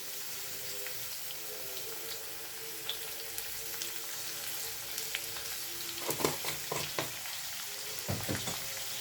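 Food frying in a pan over a low flame during home lunch cooking with turmeric and salt, a steady soft sizzle throughout with a few louder clinks and stirring bursts near the end, no talk.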